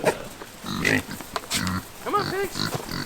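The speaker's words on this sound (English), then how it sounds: "Come on, pigs." Kunekune pigs grunt and oink in quick, close bursts, with a person's voice mixed in among the calls.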